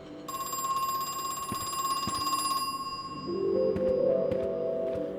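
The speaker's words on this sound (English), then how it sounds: "we can hear the phone behind it" A telephone rings behind a wall in the video game Crow Country, a steady electronic ring heard close, followed by a lower muffled tone, with no voices.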